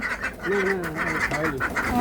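Several ducks quacking close by in a noisy, overlapping chorus of nasal calls, eager for food.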